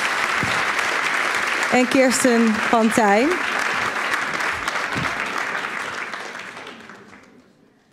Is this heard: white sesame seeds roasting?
no